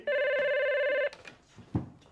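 A telephone rings indoors in a sitcom scene, one steady electronic trill lasting about a second before cutting off, followed by faint rustling and a soft thump.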